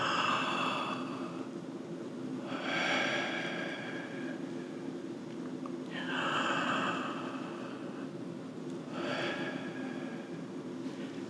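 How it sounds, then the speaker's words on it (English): Slow, airy breaths come and go about every three seconds, soft hissing inhales over a quiet low hum. "When you hear also the sound of your breathing,"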